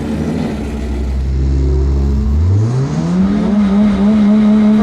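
Toyota drift cars launch in a drag race, a loud close engine roar that rises sharply in pitch as they accelerate hard, revving steadily upward with a gritty, high-volume exhaust note.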